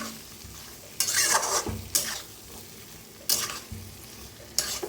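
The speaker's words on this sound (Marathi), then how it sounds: "छान असं तेलात ना जरा भाजून घेऊया एक दोन मिनिटभर" Food roasts in oil in a pan, sizzling steadily while a spatula stirs and scrapes in four distinct bursts, close and moderately loud with no voices.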